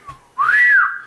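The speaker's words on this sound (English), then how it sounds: "The whistle. I don't have the greatest whistle." A single human whistle, close and clear: a brief faint note, then a louder rising tone that holds steady before tapering off.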